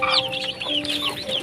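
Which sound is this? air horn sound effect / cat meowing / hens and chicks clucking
hens and chicks clucking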